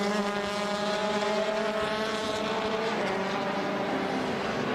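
WTCC touring race cars in a 2014 race at Circuit Paul Ricard, France, with loud engines droning at high revs and shifting pitch as cars pass, one engine tone sliding down then rising again.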